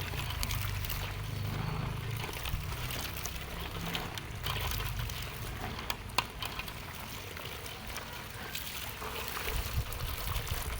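Strong, steady rushing water fills the scene continuously, a dense broadband flow with a low rumble underneath.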